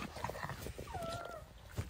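A dog in the snow whimpers faintly, with a thin, high whine and a few soft yips over quiet outdoor background.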